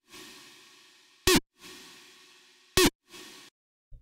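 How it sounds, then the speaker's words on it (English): A gated kick punch layer synthesized in Serum with distortion plays alone: sharp distorted hits alternate with buzzing sustained tones that stop abruptly, repeating twice before a final short tone and a faint low thump. "your punch will sound something like this"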